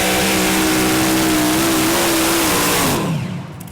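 The Italian multi-Hemi-engine pulling tractor Forno Hemi roars loud and close during a pull at the 2015 European Tractor Pulling Championship in Brande, Denmark. The pitch wavers, then sags as one engine drops off, and the noise fades at the end.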